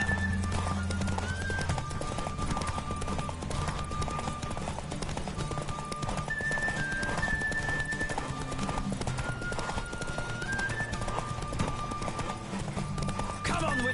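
A horse gallops in a race in the Witcher 3 video game, with rapid, steady hoofbeats throughout over a continuous game soundtrack and rushing ambience, with occasional tonal game sounds and no clear talk.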